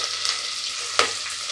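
Ginger and garlic fry in hot oil with cumin and whole garam masala spices for masale bhaat, a dense close sizzle with a sharp spatter burst partway through and no talk.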